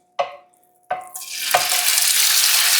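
A couple of clattering scrapes in a pan, then a loud, steady sizzle of beef frying in hot oil that continues to the end.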